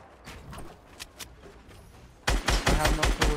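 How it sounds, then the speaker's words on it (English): Gunfire in Fortnite: a few scattered, distant cracks sound over quiet ambience, then a loud, rapid burst of shots breaks out close by and keeps going to the end. "Oh, someone's shooting! Someone's shooting!"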